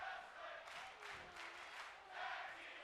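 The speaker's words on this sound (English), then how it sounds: "We've got yet another tag team wrestling chant from the crowd." A virtual arena crowd chants in rhythmic swelling bursts during a tag team match in the wrestling video game WWE 2K24, loud and sustained with no talk over it.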